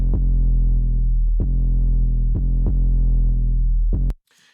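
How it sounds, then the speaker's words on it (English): A deep, sustained 808 sub bass called 808 main, with lightly sidechained notes that retrigger in a slow rhythm and swell under faint kick thumps, loud and booming before cutting off abruptly. "Nice big subby bass."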